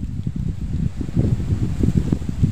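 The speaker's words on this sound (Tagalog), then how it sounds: "Lakas ng hangin." Strong wind gusting at a fishing spot by the water, a rough, buffeting low roar that rises and falls continuously, close and fairly loud, with no talk.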